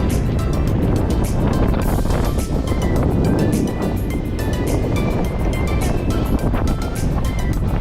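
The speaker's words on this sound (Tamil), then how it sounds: "இவ்வளோ அலை வருது" Ocean waves wash onto the beach at Manapad, a steady, loud broadband roar of surf with wind buffeting the microphone throughout, no voices heard.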